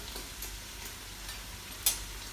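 Beef, garlic, sweet peppers and onion fry in a pan with a soft, steady sizzle and a faint tick or stir near the end, no talk.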